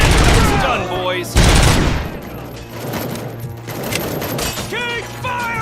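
A shootout in the film RoboCop: bursts of automatic gunfire and heavy shots ring out close and loud, with shouted voices over the racket.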